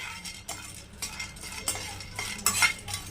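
Moong dal and ingredients lightly roasting in a pan for moong dal halwa, with soft scraping stirs and faint clinks of a spoon against the pan, quiet and close with no talking.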